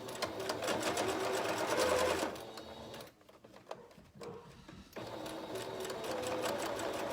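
A sewing machine runs steadily with the needle down, stitching across the side of a fabric face mask, pausing for about two seconds midway before resuming its rapid mechanical chatter.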